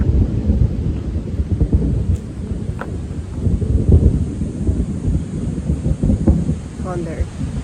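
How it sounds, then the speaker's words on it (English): Heavy thunder rolls on and on at Manuel Antonio beach in Costa Rica, a deep continuous rumble with swelling peaks over a stormy background, loud and sustained throughout. "That's a lot of thunder."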